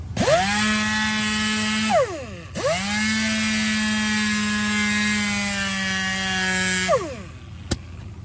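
Power sander whirring on curb rash on a Porsche Cayman alloy wheel: two loud, steady runs of motor whine that spin up, hold, then wind down, with a short pause between and a brief click near the end.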